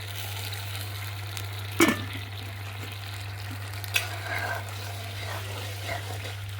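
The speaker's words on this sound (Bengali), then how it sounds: "এবারে ফুটে গেছে, মাছগুলোও দিয়ে দিচ্ছি।" Rohu fish pieces simmering in boiling chili sauce make a quiet, steady bubbling sizzle over a low hum, broken by two brief utensil clinks, with no talking.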